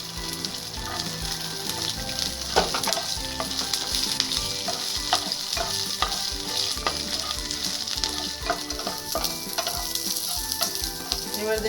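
Garlic sizzles and fries with onion in a pan for a village-style onion chutney, a steady dense crackle with occasional stirring clicks and scrapes, close and continuous with no talking.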